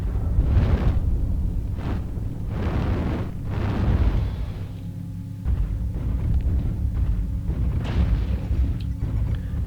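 Missiles slam into a mech in MechWarrior Online, several loud booming explosions arriving in quick succession and then giving way to a lower rumbling, with no talk over the blasts.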